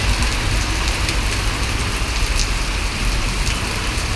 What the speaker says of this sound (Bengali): আকাশে মেঘ ছিলকাচ্ছে বৃষ্টিও পড়তেছে